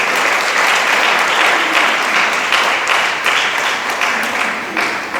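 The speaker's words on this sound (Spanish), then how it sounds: "Dele palmas al Señor." A church congregation claps together in sustained, dense applause during a sermon, steady and loud throughout, with no speech over it.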